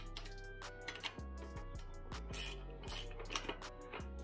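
A tool tightens a quill stem into a Lectric XP folding e-bike, giving a close series of fast ratcheting clicks that run steadily throughout.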